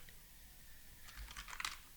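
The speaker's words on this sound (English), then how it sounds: "by typing something like prop full" A computer keyboard clicks quietly, a few scattered keystrokes early then a quick flurry of taps toward the end, close and crisp with no talking.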